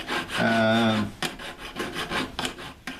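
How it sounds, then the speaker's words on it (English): Quick back-and-forth rasping strokes of a hand file on a small jewelry piece, close up, several short scrapes in an uneven rhythm. "doing this particular step works the best with a file"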